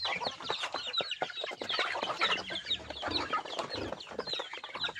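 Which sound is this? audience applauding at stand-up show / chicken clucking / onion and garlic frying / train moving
chicken clucking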